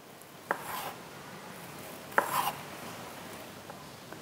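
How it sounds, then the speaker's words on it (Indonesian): A knife cuts meatballs into small pieces, with two distinct close chops on a board, each followed by a short scraping slide, and a faint tap near the end. "Lalu kita mau potong-potong baksonya ya."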